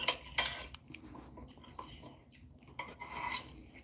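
A person eats noisily at close range with metal cutlery clinking and scraping against dishes in irregular bursts, some louder clatters among softer taps.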